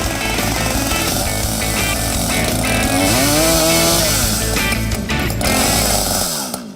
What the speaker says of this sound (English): I've never used a chainsaw